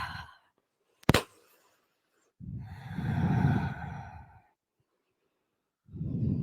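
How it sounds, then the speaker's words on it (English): Ujjayi breathing during a yoga practice, slow audible breaths close to the mic: a sharp clap or knock early, then a long rasping exhale, followed by the start of another breath. "staying with that Ujjayi breath to open up"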